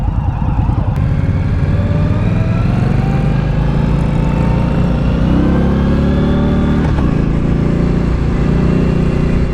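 A 2018 Indian Scout Bobber motorcycle engine runs loud and close throughout a test ride, a steady throaty rumble that rises in pitch as the bike accelerates.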